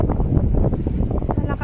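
Strong wind blowing across a snowy landscape in northern Norway, a steady low roar buffeting the microphone throughout.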